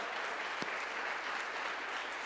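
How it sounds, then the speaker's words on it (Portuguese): A church congregation claps together in a steady, loud, dense round of applause that fills the room without pause. "Se você crê, dê uma salva de palmas ao Senhor"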